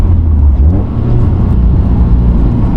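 A stock car engine revs hard, rising and dropping as it shifts through the gears, a loud, close, rumbling drone with no voices.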